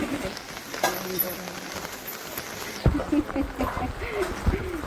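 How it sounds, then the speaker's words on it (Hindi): Steady rain patters and hisses nearby, with scattered drips and splashes, while a person talks over it. "टिपिर टिपिर पानी बरस रहा है"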